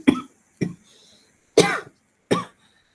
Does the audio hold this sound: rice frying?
no